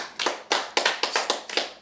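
A church congregation claps hands in a steady rhythm of about eight sharp, loud claps, close and unaccompanied.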